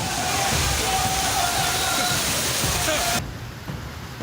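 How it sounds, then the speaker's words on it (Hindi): Loud, churning roar of rushing monsoon flood water in Rajasthan, strong enough to knock people off their feet, fills most of the clip, then cuts abruptly to a quieter wash near the end. "पानी का इतना तेज प्रवाह कि इंसानों के पैर उखड़ रहे हैं।"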